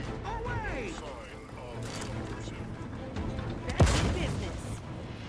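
A grenade blast and scattered gunfire from combat in the video game The Outer Worlds 2, with a sharp boom near the end and mechanical clatter, while someone talks across much of the stretch.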